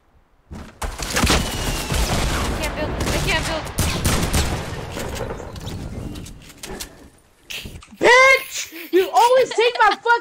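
Heavy gunfire in a multiplayer shooter, including a shotgun, with a dense burst of loud shots over the first seconds, then a pause and excited shouting from players near the end.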